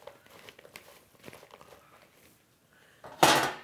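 A metal cookie sheet and pans clattering in a home kitchen, soft scattered knocks followed by one loud, bright metallic clank near the end; no talking.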